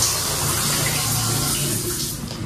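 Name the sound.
shower water running in a bathroom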